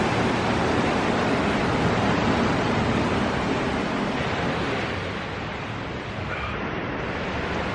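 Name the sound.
ocean waves on the beach at low tide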